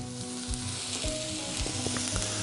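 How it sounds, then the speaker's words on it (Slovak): Sliced zucchini sizzles steadily in a hot frying pan, a dense crackling hiss with occasional stirring scrapes and clinks, close up and with no talking. "Cuketu si orestujeme"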